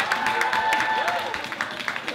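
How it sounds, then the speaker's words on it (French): Brief audience applause breaks out, steady crowd clapping at moderate loudness with a voice speaking over it. "on applaudit la voix de Rose Carpet."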